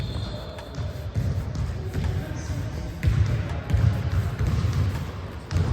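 Under Armour Curry 9 Flow basketball shoes on an indoor court, with low thumping basketball bounces and faint shoe noise, under a busy gym background where people talk.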